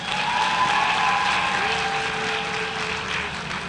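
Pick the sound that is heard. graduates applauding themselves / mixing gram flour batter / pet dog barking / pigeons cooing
graduates applauding themselves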